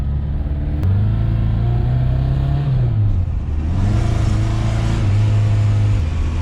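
A restored old Talbot Simca car drives off, its engine running loud and close with steady revving rises and falls, and no voices are heard over it.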